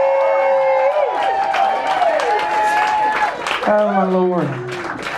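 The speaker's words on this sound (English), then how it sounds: "Big round of applause for Kathy" An audience at a church night event applauds and cheers for Kathy Piota with dense, continuous clapping, mixed with whoops and excited voices throughout.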